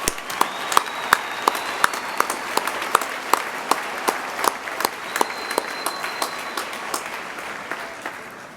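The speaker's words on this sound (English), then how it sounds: "please help me give all of our hardworking graduates another round of well-deserved applause" An audience at a graduation ceremony applauds the graduates with a sustained, even wash of clapping, and a few sharper near claps stand out at a regular pace throughout.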